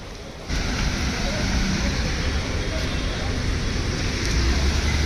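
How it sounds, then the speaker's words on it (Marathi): Steady, dense rain pours down, a continuous hiss that starts abruptly and stays loud and even throughout. "आणि पाऊस चालू आहे गाईस"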